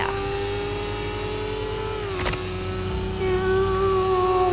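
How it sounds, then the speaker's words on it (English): The Carbonara convertible in the Roblox game Jailbreak idles and revs with a steady droning engine tone, broken by a brief sharp crackle of a backfire midway. "Is that the car backfiring?"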